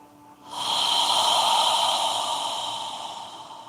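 A single long, steady breath during a yoga class swells in after a brief quiet start and holds loud and close for about three seconds, then slowly fades, with a hissy, airy, slightly nasal quality.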